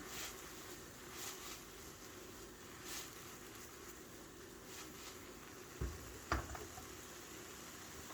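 Mushrooms and mixed vegetables sauté in their own juices with no oil, giving a faint, steady sizzle with a few soft clinks of a spoon against the pot near the end.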